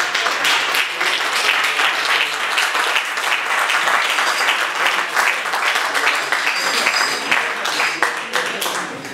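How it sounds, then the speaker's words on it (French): A crowd applauds judoka Teddy Riner at a company event, dense sustained clapping from many hands filling the room loudly and evenly throughout, with no lull. "je vous demande d'applaudir Teddy Riner"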